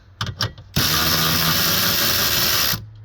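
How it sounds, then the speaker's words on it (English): A power driver removes a 7mm bolt from a 2006-2008 Ford F-150 instrument cluster: a couple of brief clicks, then a loud, close, steady whirring burst of about two seconds that stops abruptly. "First, we're going to remove the 7mm bolts down here."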